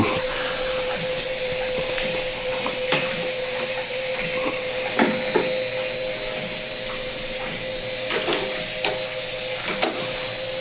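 An 1860s Pratt & Whitney rifling machine runs steadily with a constant mechanical hum and whine, broken by occasional clicks and knocks, heard close and without talk.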